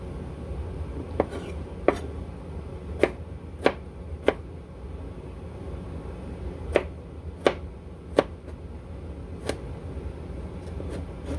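A knife dices soft but still firm tomatoes for bruschetta on a cutting board, making sparse, sharp, irregular chops with pauses between them over a low background hum.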